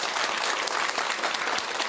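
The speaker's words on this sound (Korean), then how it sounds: "박수 한번 주세요." Steady audience applause fills a Buddhist dharma talk hall, a dense, even wash of many hands clapping at close range for two seconds with no voices over it.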